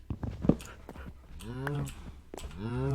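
Tame wolf dogs in Minecraft survival mode give a few rising and falling whines and whimpers, close by, with a low steady hum of game ambience underneath.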